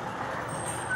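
A large truck rumbles past on a busy road at the end of C5 in Taguig City, a steady low engine drone with a brief high tone near the end.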